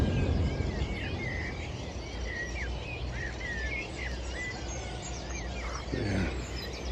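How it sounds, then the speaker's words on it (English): Birdsong at a carp fishing lake on an early June morning, a scatter of chirps and short whistled phrases drifting at moderate distance over a steady outdoor hum, with no talking. "listening to the birds singing"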